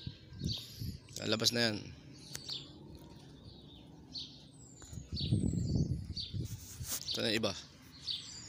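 Pigeons emerging outdoors give soft coos and brief chirps with bursts of wing flapping, fairly close, mixed with someone talking intermittently.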